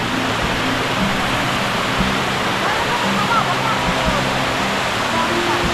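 A waterfall pours steadily in a forest in Quezon, its broad, constant rush of water filling the scene at close range and masking faint voices beneath it.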